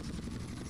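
Hunter attack helicopter in GTA San Andreas on PS2, its steady rotor and engine drone filling the whole stretch at a constant loud level with no voices.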